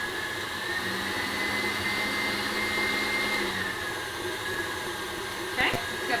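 An electric mixer whirs steadily, creaming butter for a tres leches cake, a continuous mid-level motor drone with a brief clatter near the end.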